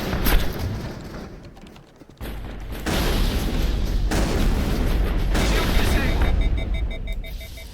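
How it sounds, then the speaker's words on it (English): Grenade explosions in the Mass Effect video game boom through loud, continuous combat noise, with heavy blasts layered over a sustained rumble. "Okay, how about grenades?"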